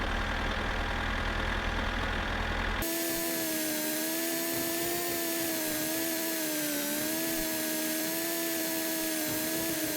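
A tractor engine drones in the My Summer Car driving game, a steady tonal hum with wavering pitch that rises sharply after a brief rougher start and holds loud and constant with no talk.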